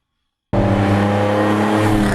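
A twin-turbo car engine with parallel turbocharging roars to life and revs hard and loud after a half-second of silence, with a deep, sustained throaty rumble.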